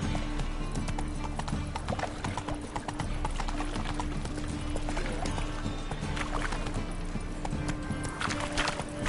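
Geralt's horse Roach trots along in The Witcher 3, hooves clip-clopping in a steady rhythm under ambient game sound, with a short spoken line over it.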